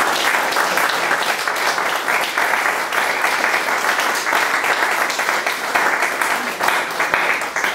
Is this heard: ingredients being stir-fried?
no